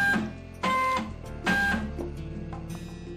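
Printer running a plate print job, with two loud mechanical feed bursts followed by quieter whirring and clicking, heard alone at close range.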